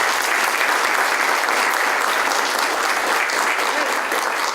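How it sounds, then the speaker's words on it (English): Steady, dense applause from a large audience at a university sports-and-society panel event, loud and continuous throughout without any voices over it. "But a big round of applause for Harrison and his story."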